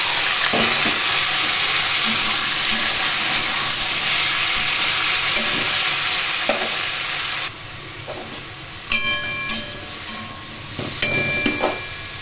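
Ridge gourd and potato pieces fry in hot oil with black cumin seeds, a broad sizzle that stays dense for several seconds, then drops to a quieter hiss broken by clinks and scrapes of a utensil against the pan.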